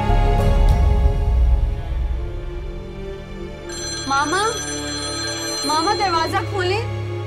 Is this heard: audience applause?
no